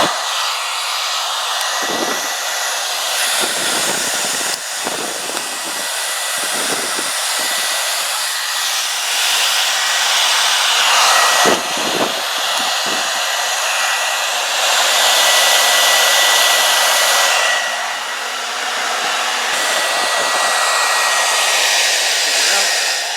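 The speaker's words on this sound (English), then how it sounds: "Now I'm going to turn the hairdryer back on" A hair dryer blows steadily to inflate an Intex air mattress, a loud continuous whooshing hiss lasting throughout with brief dips as the airflow shifts.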